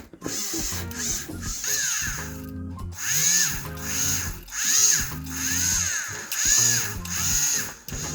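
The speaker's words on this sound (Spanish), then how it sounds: "Una pasada de cepillo de acero, luego una de bronce por dentro." A rotary wire brush, first steel and then bronze, polishes the inside of an endless-thread jewelry ring, giving a whirring, rising-and-falling whine in repeated close passes.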